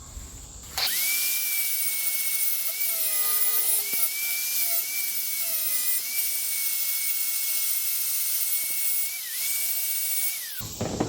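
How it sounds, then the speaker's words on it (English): A small cutoff wheel on an angle grinder cutting through a metal roll pin on shift linkage, a loud high whine that starts abruptly, holds with pitch wavering under load for about ten seconds, then spins down. "I'm just going to use this little cutoff wheel"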